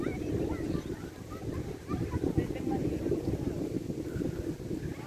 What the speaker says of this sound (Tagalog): Sobrang hangin talaga guys. Sobrang hangin.